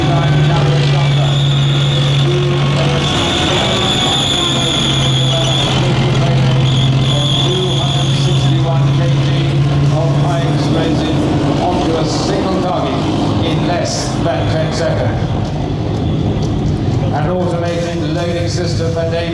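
An AS-90 self-propelled 155mm artillery vehicle at a Tankfest display rumbles with a loud, heavy engine drone and shifting tonal whine. A commentator talks over it on a public address system.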